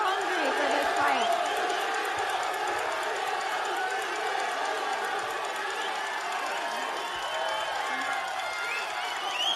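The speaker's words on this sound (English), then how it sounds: "We've got a very excited crowd here today." An excited crowd at a boxing press conference in New York cheers and shouts in a dense, steady roar with scattered whoops and clapping, while a voice talks over it.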